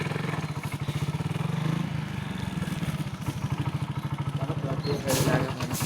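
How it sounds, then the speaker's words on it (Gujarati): A motorcycle engine idles nearby with a steady, rapid thumping putter, a voice briefly speaking over it. "બાઇક ચાલુ થઈ ગઈ છે."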